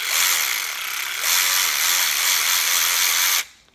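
A cheap cordless ratchet from Amazon runs with a loud, steady motor whine for over three seconds and then cuts off abruptly.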